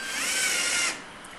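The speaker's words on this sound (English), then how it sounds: "I'm going to do another rundown, and since I've backed it up and relieved the tension on the spring, we should be able to perform a good fastening event." A torque-controlled screwdriver runs down a nut in a fastening test, giving a loud, steady high-pitched motor whine that stops abruptly after about a second, leaving a quiet hum.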